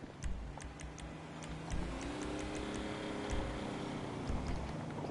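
Steady, quiet ticking of a bomb planted on a car in GTA V, with clicks repeating at an even pace over a low background rumble of game ambience.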